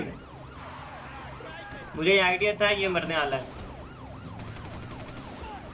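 A wailing police car siren cycles steadily in a GTA 5 chase, briefly masked by a loud burst of speech in the middle, then continuing alone afterward.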